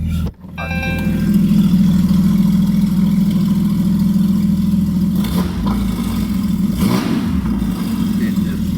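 A Mercedes G63 driving on the road, its steady low engine drone and road rumble holding loud and constant throughout, with a brief dip near the start and a few passing swells later on.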